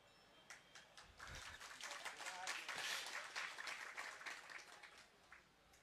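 Audience applause during a Jain religious sermon, a steady wash of many hands clapping that swells to a peak mid-way and then tapers, heard at moderate distance without speech over it.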